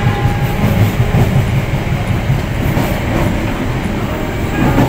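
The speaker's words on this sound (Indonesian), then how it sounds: "Ini ruangan antar gerbong, kita bisa berdiri di sini, terus kita bisa lihat tuh kereta." Steady, loud rumble and rattling clatter of the KA Pangrango passenger train on the Bogor–Sukabumi line, heard from the open space between carriages while the train runs, with no talk over it.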